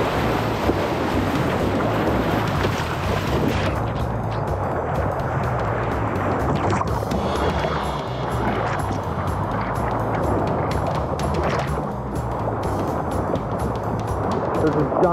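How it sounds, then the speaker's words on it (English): Steady roar of rushing whitewater and wind buffeting the microphone, a boat pushing through churning class two river rapids, continuous and loud throughout. "Here we go, our first little class two rapid."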